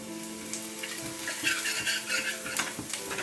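Chopped ginger and minced garlic sizzle and crackle in hot oil left from frying pakoras while being stirred for homemade chili chicken, a steady close frying hiss broken by soft scrapes of a utensil against the pan.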